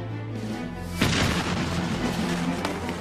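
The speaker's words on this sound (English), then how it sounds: "Santa Anna's cannons slowly battered away at the walls of the fort." Santa Anna's cannons pounding the walls of the Alamo fort during the 1836 siege: a single heavy boom lands after a low hum, then a sustained rumbling roar and crackle that stays loud to the end.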